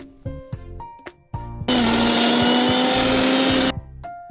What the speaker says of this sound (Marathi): सामग्री मिक्सरच्या भांड्यात काढून त्यात लिंबाचा रस काढून घ्यायचा आहे आणि चवीनुसार मीठ ॲड करून हे छान ग्राइंड करून घ्यायचे